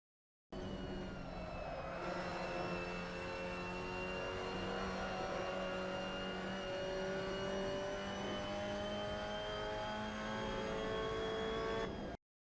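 A Mazda MX-5 Cup race car laps Mugello in Assetto Corsa, holding fourth gear with a loud, steady engine note that climbs gradually before cutting off abruptly.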